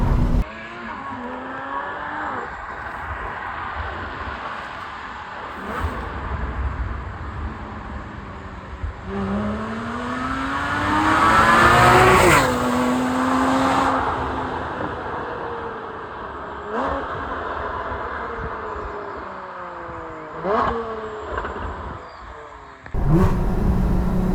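A Porsche 981 Cayman S engine with F1 headers revs repeatedly, pitch sweeping up and down with raspy, crackling exhaust, sometimes roaring loud, sometimes easing off.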